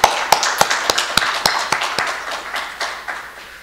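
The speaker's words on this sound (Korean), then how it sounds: "박수 한번 보내주시죠" A small audience at a Korean ceremony gives scattered applause, a handful of distinct, sharp claps in an uneven rhythm rather than a full ovation, close and fairly loud, fading slightly toward the end.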